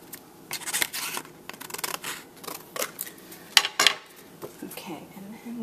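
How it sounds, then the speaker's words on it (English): Scissors snip and rustle through patterned paper in a quick run of crisp cuts, close up, with light scraping between strokes and no talking. "I'm just going to trim it with my scissors"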